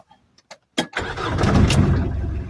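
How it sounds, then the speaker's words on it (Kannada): A car engine is started after a few quiet clicks: a short whirring crank, then the engine catches and settles into a steady, loud idle close by. "ಅದಾದ್ಮೇಲೆ ಒಂದು 3ನೇ ಸಲ ಸ್ಟಾರ್ಟ್ ಮಾಡಬೇಕು."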